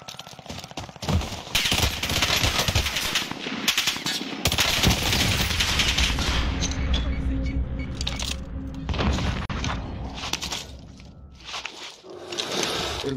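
Automatic gunfire crackles in a first-person shooter video game, with loud rapid bursts and scattered shots running through most of the stretch, plus a few heavier booms.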